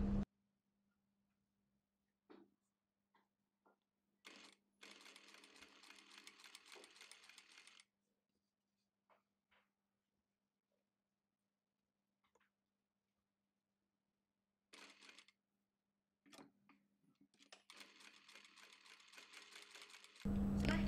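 Net fabric is stitched on a sewing machine in short separate bursts of whirring, divided by near-silent pauses and small handling clicks, quiet and close.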